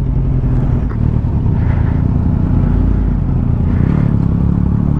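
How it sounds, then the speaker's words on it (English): Yamaha MT-09 motorcycle engine rumbling steadily inside a car tunnel, a loud, continuous low drone with reverberant echo and slight swells in revving throughout, with no voices. "the sound of the MT09 in that car tunnel"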